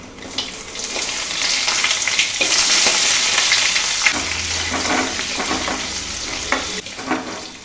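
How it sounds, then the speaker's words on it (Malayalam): Onions sizzle in hot oil for a tempering of an okra pachadi, with a loud, continuous frying hiss, stirring scrapes and a brief low rumble partway through, close up. "ഉള്ളി ഇടുക."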